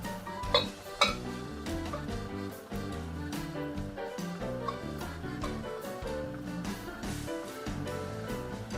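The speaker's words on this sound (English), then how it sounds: "go ahead and stir this over the heat for about 2 to 3 minutes until it's cooked" Cajun seafood stirred in a hot pan, with soft metallic scrapes and clinks of utensil against cookware running steadily beneath continuous background music.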